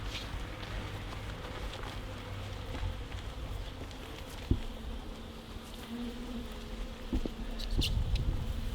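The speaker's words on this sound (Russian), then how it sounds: "пчелок можно сразу сюда струшивать" Honey bees shaken into a hive during a colony transfer, a dense continuous buzzing swarm close by, with occasional knocks and taps of the hive frames.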